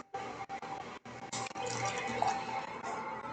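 Water pours steadily into a drinking glass, a continuous close liquid rush with brief pauses near the start, filling over several seconds with no talking.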